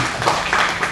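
An audience at a chairman's inauguration ceremony in Balaraja gives a short burst of applause, a dense, steady wash of clapping that is loud and fills the room for about a second.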